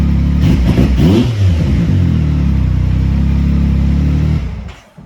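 A 2019-or-later Yamaha YXZ1000R fitted with a Weller turbo kit revs loudly up close, its engine surging and holding a steady high drone before dropping off sharply at the end.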